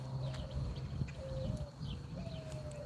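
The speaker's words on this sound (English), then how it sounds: "You definitely can hear all the birds." Birds chirp and coo outdoors in a quiet area during a walk, with short whistled tones repeating over a steady low rumble and faint rustling, moderately distant.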